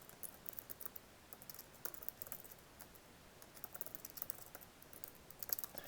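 Code being typed on a computer keyboard during C++ setup on a Mac, quiet rapid clicking keystrokes in irregular bursts throughout, close and alone.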